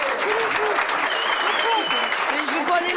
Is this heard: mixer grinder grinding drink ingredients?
no